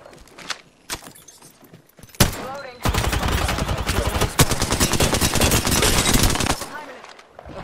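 Automatic gunfire in a video game: a few scattered single shots, then a loud, sustained rapid-fire burst lasting several seconds before it stops.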